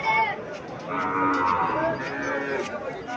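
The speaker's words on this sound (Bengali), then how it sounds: "এখানে কিছু সার বাছুর দেখা যাচ্ছে," Medium-sized bull calves at a village cattle market give a long, loud, drawn-out moo, with fainter mooing and background crowd chatter around it.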